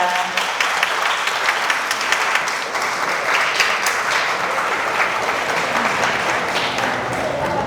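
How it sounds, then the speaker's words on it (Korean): Wedding guests at the start of a ceremony without an officiant break into big, dense applause, a loud continuous roar of clapping that stays strong for the whole stretch. "여러분 큰 박수 부탁드리겠습니다."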